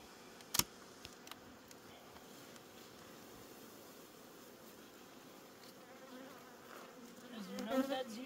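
Honey bees buzz around beehive boxes: a faint, steady outdoor hum with a sharp click early on and the buzzing swelling nearer toward the end.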